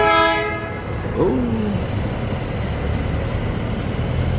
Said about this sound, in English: That's the train over there.